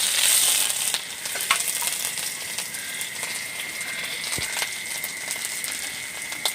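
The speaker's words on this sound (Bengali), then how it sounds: "তেল গরম হয়ে গেছে, দিয়েছি পেঁয়াজ কুচি" Chopped onion drops into hot oil and fries, opening with a loud hiss that settles into a steady close sizzle with a few light stirring clicks, no voices.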